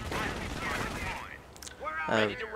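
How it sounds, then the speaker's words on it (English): Rapid machine gun bursts from an MG in the Company of Heroes strategy game, dense rattling fire up front, then a brief lull before a voice cuts in near the end. "Now there's an MG shooting at me"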